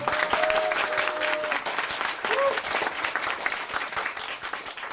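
A studio audience at a startup investment talk show claps together in a sustained, even burst of applause, with a brief whistle-like tone near the start.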